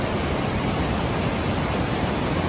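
Aliwagwag Falls in Davao Oriental sends up a steady, dense rush of falling water, loud and unbroken like heavy hiss, with no voices over it.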